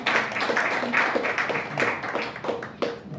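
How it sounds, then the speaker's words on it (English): An audience at a SKÅL International Mumbai event applauds, a brisk run of scattered hand claps at close range with uneven rhythm and a few sharper individual claps standing out. "we need to clap for that one at least"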